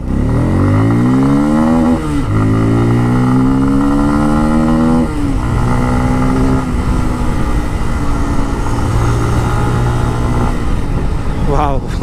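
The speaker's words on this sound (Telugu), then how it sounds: "వావ్, ఎగ్జాస్ట్ నోట్ చాలా బాగుంది" A Bajaj Pulsar F250 motorcycle's exhaust booms loud and close while riding, its engine note climbing through several rising revs in a row and then settling into a steady low drone.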